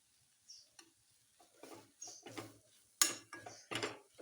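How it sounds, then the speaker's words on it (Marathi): Grated sweet potato roasts in ghee in a wok, heard as a series of soft, quiet scraping stirs and light sizzles in short bursts with pauses between, close by and without talk. "तूप टाकूया थोडंसं भाजून घ्यायचं"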